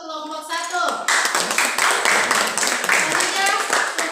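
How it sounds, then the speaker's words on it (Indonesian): A classroom group claps for the first presentation team, with dense, steady applause starting around one second in and continuing to the end, while a voice is heard at the start. "Tepuk tangan dulu untuk kelompok 1"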